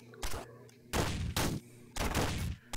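Shotgun blasts in the video game Downwell, three loud booming shots spaced roughly a second apart, each a broad heavy burst with a short tail, close and alone without talk.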